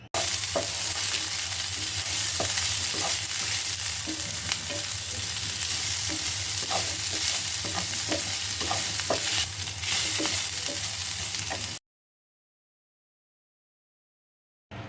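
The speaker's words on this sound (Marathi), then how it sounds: "परत सर्व मिश्रण व्यवस्थित ढवळून घ्यायचं आहे" Green pea paratha filling mixture being stirred in a pan, giving a steady soft scraping and gentle sizzle with repeated light spoon taps, continuous for most of the stretch before cutting to silence.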